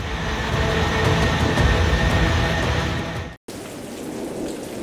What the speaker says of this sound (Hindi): तेज बारिश का सिलसिला थम नहीं रहा है